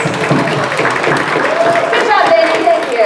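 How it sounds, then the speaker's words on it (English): A convention panel audience gives a short round of steady clapping that mixes with voices talking. "round of applause"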